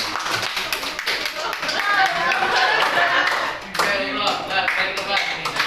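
A class of Islamic high school students claps for the second group during an Arabic lesson, a dense, fairly loud burst of hand claps sustained for several seconds with voices mixed in.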